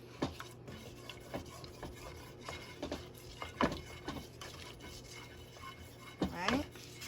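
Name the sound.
stirring flour and butter roux cooking in pan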